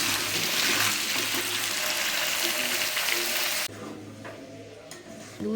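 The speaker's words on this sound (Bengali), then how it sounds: "আলুগুলোকে ভাজার জন্য দিয়ে দিলাম।" Potatoes fry in a pan with a moderate, even sizzle that drops sharply in loudness partway through and continues quieter.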